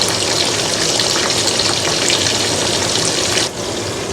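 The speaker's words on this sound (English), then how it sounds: "now while that's sauteing, I'm going to get this rice" Onions sauté in a pan with a loud continuous sizzling hiss held at an even level, briefly dipping near the end, with no voices over it.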